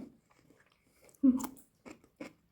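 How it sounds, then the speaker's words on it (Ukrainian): Someone bites and crunches through home-pickled cucumbers, preserved in jars for winter. A few distinct, close crunches punctuate near silence, with one sharp bite followed by softer chewing crunches. "Хрумкаєте? Так, то ті мариновані огірочки, які я крутила на зиму."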